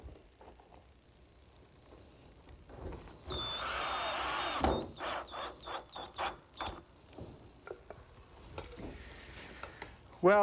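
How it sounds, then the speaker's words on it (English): Power drill driving screws into the wooden joints of a greenhouse gable end, heard as a long whirring run followed by a series of short bursts, close by and alone. "Now I'm going to secure these joints with some screws."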